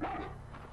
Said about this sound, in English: Who's Huey barking at?